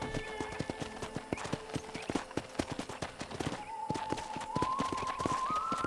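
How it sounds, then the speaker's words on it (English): Horse hooves clip-clop in steady rhythm during riding in the Western video game Red Dead Redemption, close and clear alongside a brief whinny and rising tonal game sounds, with occasional faint voices. "You can still ride a horse."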